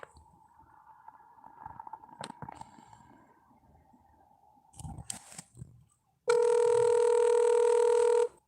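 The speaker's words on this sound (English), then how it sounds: "I'm gonna call him and see if he's close." Outgoing telephone call ringback: a steady electronic ringing tone begins abruptly after quiet background noise and holds loud and continuous for about two seconds, with no talking over it.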